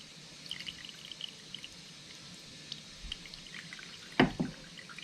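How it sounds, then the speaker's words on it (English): Water dripping out of a Toro machine that will not start: quiet, sparse small drips and trickles, then a couple of louder splashes near the end, with no talk. "In fact, I think that's all water."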